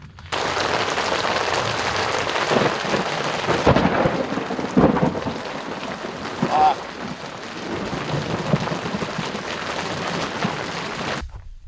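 A thunderstorm with rain at Dale Hollow, heavy rain hissing steadily while several rolling thunder cracks rumble through, with a voice speaking briefly partway.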